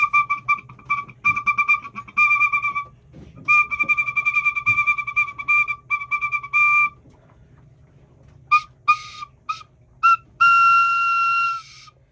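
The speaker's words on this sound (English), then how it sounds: "blowing the whistle" A pea whistle is blown in bursts: rapid trilling runs, a pause, another long trilled stretch, then several short sharp blasts and a final held tone, loud and close.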